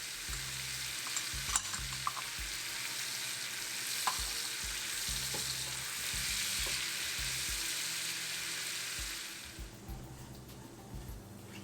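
Dried red chilies fry in hot oil for a tadka for dhaba-style dal, giving a steady, loud sizzle with occasional stirring clinks and pops, fading down toward the end.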